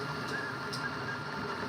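A home printer runs steadily, a continuous mechanical whir with faint clicks of the print head, fairly quiet and alone with no talking.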